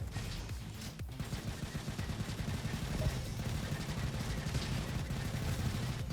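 Rotary-barrel windmill rifle firing in the video game Roboquest, a fast continuous rattle of shots at low level with no talk.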